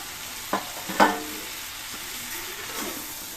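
Fresh tengra fish stir-fry in a pan for a curry with greens, a soft steady sizzle with two sharper clanks of a utensil early on and quieter scraping after.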